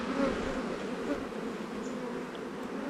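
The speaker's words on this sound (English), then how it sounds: "it's a good solid box of bees" Bees in a hive box in a bee yard hum steadily and softly throughout, a continuous close insect drone with no voices.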